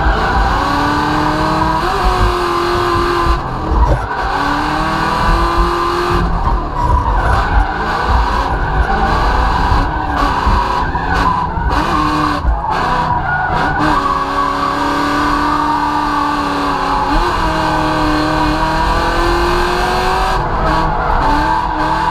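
A Formula Drift car skidding around the track, its engine revving and wailing in long swells with continuous loud tire squeal, close and sustained for the whole stretch.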